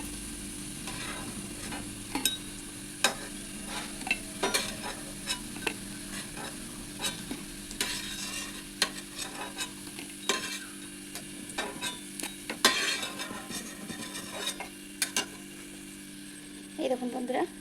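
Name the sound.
fish roe fritters frying in oil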